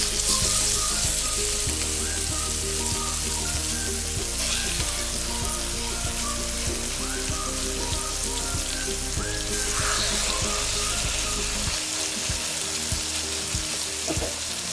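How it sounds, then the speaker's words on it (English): Pork chops sear in browned butter in a pan, giving a steady, close, loud sizzle and crackle that runs unbroken throughout, with occasional soft clinks of stirring. "You want to hear that sizzle."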